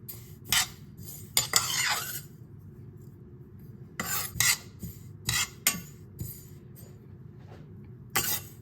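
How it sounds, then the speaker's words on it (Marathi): Half a bowl of sesame seeds being dry-roasted in a pan for tilgul poli filling, heard as intermittent metallic scrapes and clinks of a spatula against the pan over a low steady background. "आता ह्याला आपल्याला व्यवस्थित भाजून घ्यायचं आहे"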